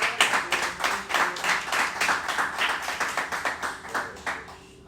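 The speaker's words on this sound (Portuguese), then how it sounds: "Diga amém e aplauda ao Senhor com o seu melhor." A church congregation claps together in a steady rhythmic beat, many hands striking in time at a moderate distance and fading out at the end.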